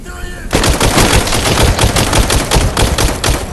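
Rapid automatic gunfire from a VR shooter game, a dense, continuous burst of loud shots that starts abruptly after a brief quiet moment and rattles on without pause.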